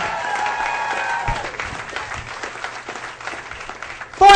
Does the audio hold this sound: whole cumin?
no